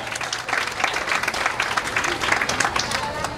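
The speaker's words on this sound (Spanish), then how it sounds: "Fuerte los aplausos para nuestra gobernadora" Strong applause for a provincial governor at a civic ceremony in Zacatecoluca, loud close clapping with individual claps standing out in an uneven, lively rhythm throughout.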